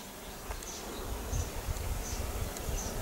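Bees buzz around beehives in a village apiary in early summer, a continuous low drone with faint higher whines of individual insects passing close, steady and moderately loud, with no talk.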